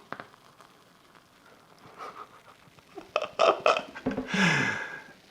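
Long-brewed kombucha, fermented about five months, fizzing and foaming hard as it is poured, rising to a loud bubbling hiss near the end; close up, with a few breathy vocal sounds mixed in.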